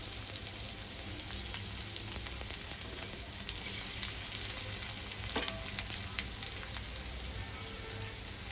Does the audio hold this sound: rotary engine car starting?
no